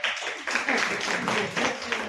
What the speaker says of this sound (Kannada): ಅವ್ರಿಗೊಂದು ಜೋರ ಚಪ್ಪಾಳೆ